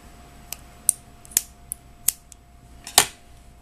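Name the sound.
scissors trimming crochet yarn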